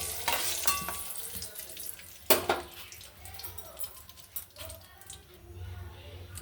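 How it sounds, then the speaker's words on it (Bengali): Papaya pieces sizzle in hot oil with turmeric in a pan, with crackling frying and the scrape of stirring and turning, including a sharp spatter burst near the middle. "এবার দেখুন হলুদ দিয়ে দিচ্ছি পেঁপেটা ভালো করে উল্টে পাল্টে।"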